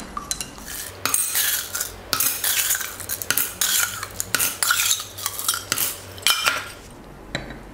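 A spoon stirs briskly in a glass of instant iced coffee with caramel flavouring, clinking repeatedly against the sides in an uneven rhythm, close and fairly loud.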